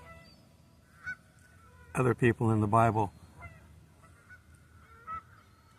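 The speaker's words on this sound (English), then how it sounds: "those geese are distracting me." Several loud geese honk close by in a dense, harmonic burst lasting about a second, set outdoors behind a man preaching about the Bible, whose speech continues before and after the calls.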